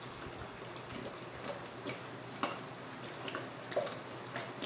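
Homemade liquid detergent is poured into a 1.5 liter bottle: a steady, soft liquid trickle with faint splashes and drips, close by and alone without talk.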